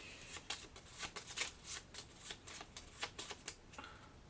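The BP card deck from the board game Aeon Trespass: Odyssey gets a close, quiet shuffle, a steady series of crisp riffling flicks and soft card taps repeating for several seconds without talk.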